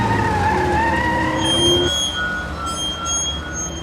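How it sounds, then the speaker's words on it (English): A Daimler Scout Car, the Dingo, a small wartime armoured car, skids with a long squeal of tyres over its engine, then the squeal cuts off as the engine drones on with a thinner whine. "And this is it, the Daimler Scout car, affectionately known as the Dingo."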